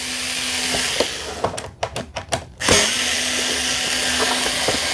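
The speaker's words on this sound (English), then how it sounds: "Let's take all 5 of these screws out." A power screwdriver backs screws out of an iRobot Roomba J6+ robot vacuum, whirring loudly and steadily, then pulsing in several short bursts before running on again.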